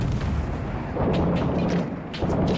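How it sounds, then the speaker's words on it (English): A grenade blasts in a shooter video game, a heavy booming report followed by further gunfire-like thuds, loud and close, with no voices over it. "Grenade out."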